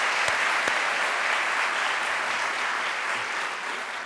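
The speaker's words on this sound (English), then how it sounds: "if we can give another round of applause to Mr. and Mrs. Broad" A crowd at the Broad Prize for education announcement applauds steadily throughout, a dense, even wash of clapping from start to finish, with no talking over it.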